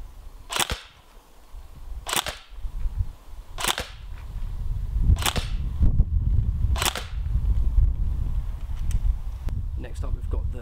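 Airsoft AEG firing ASG 0.25 g BBs at a target about 22 feet away: five sharp, loud single shots spaced roughly every 1.5 seconds, each with a crisp impact crack, over low background rumble.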